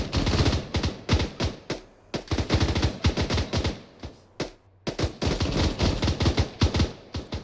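Rapid gunfire in ArmA 3 co-op combat, loud and close: dense bursts of sharp automatic shots in rhythmic clusters, with brief pauses between volleys, no talking over it.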